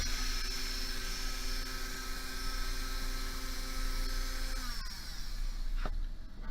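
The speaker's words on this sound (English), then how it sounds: "ideally you want to drill equidistant between the inner and outer surface" A small high-speed drill bores into a ring, whining continuously, its pitch dropping near the end as it slows, with no talking.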